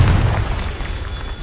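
Confringo blasting spell in Hogwarts Legacy, a short loud booming explosion with a heavy low thump at the start that quickly decays into a rumbling tail.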